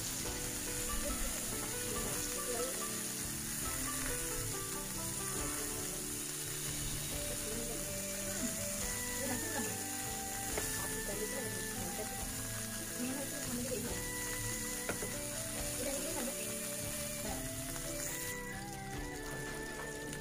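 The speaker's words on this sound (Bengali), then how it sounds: "ফ্রাই করে নেব যাতে চিকেনের মধ্যে কোনো কাঁচা ভাব না থাকে" Chicken kathi kabab pieces frying in a pan until browned, a steady dense sizzle that runs unbroken from start to finish alongside constant busy background sound.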